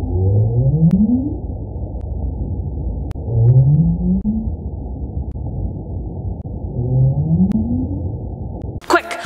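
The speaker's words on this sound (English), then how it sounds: "This sound is coming from the North Atlantic right whale" A North Atlantic right whale, caught underwater on a hydrophone, makes three low rising upsweep calls spaced a few seconds apart, like a questioning moan, over constant deep ocean rumble with faint clicks and a brief noisy burst at the end.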